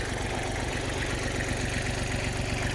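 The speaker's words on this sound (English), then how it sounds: "Now I get back on the tractor and I can drive across it." A tractor engine runs steadily at idle with a low, even, throbbing chug, close and continuous with no voices.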